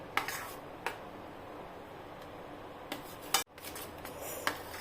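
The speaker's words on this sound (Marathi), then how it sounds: "छानपैकी गूळ वितळेपर्यंत आपल्याला हे मिश्रण मिक्स करून घ्यायचं आहे।" A spoon clinks and scrapes against a vessel while raw mango pulp is stirred with jaggery and cardamom powder, giving a few sharp, sparse taps over a quiet kitchen background.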